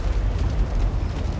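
Hell cannon fire in a Total War Warhammer 2 battle makes a dull rumbling explosion that rolls on as a continuous low boom over distant battlefield noise.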